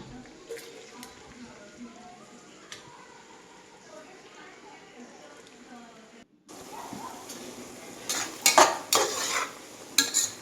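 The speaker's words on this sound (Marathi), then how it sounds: "छान ब्राऊन रंग येईपर्यंत कांदा फ्राय करून घ्यायचा आहे आपल्याला" Onion fries in oil with salt while being stirred, a low sizzle and scraping in the first part, then louder clanks of a utensil against the pan, under talk.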